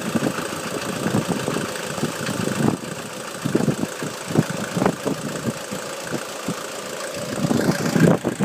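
A diesel engine in a car or truck turns over and then runs steadily, with close, loud, slightly knocking idle and irregular rattles.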